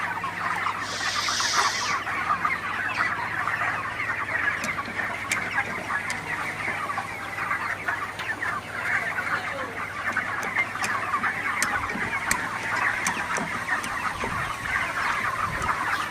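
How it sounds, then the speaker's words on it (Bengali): A flock of ready broiler chickens in a shed during hot weather clucks continuously, many birds overlapping at close range over a low steady background hum. "মুরগিগুলো দৌড়ায় চলে আসে সবগুলো আমার কাছে"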